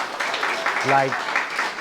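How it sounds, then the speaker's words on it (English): An audience at a community talk on mental health gives a round of applause, a steady wash of clapping with a brief voice rising over it. "Can we give her a round of applause, please?"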